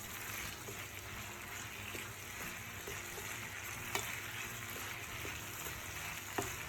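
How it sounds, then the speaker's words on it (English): Beef and garlic stir-frying in a pan give a steady, dense sizzle throughout, with a few sharp clicks of the utensil against the pan. "Stir for a few more moments until everything is well combined."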